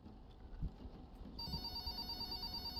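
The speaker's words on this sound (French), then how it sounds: "Ah, téléphone." A telephone starts ringing partway through in a large hotel lobby, a steady electronic tone with bright repeating pitches that sits over low room rumble and continues to the end.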